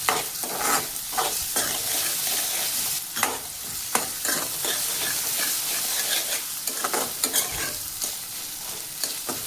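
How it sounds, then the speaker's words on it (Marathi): Chopped onion and capsicum sizzle in a pan for a potato frankie filling, with repeated spoon scrapes and stirs over a constant close frying hiss. "छान गोल्डन ब्राऊन कलर येऊस्तोवर आपल्याला या भाज्यांना परतवून घ्यायचं आहे"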